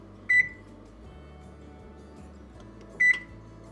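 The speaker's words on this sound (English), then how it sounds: "we're gonna start out by preheating the oven to 375" An oven gives two short, clear electronic beeps about three seconds apart while being set to preheat to 375, with a quiet background between them.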